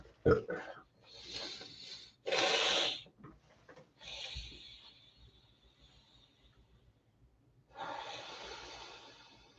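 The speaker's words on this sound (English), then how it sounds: "I hate being able to hear myself breathe. This is the most annoying sound." Loud, close breaths rush straight into a microphone in uneven bursts of heavy inhaling and exhaling, with snort-like puffs and quieter pauses between, and no talk.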